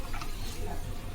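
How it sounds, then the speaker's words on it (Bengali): Palm fruit fritters (taler bora) frying in hot oil, a steady dense sizzle with faint stirring, close and continuous. "তালের বড়া ভাজছি আমি"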